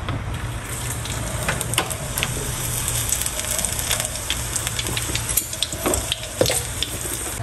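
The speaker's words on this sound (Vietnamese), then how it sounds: "Rồi tiếp theo mình sẽ chiên cà rốt." Carrots fry in a pan with a dense, steady sizzle and crackle, broken by scattered pops and stirring clicks. The sound is close and continuous, with no speech.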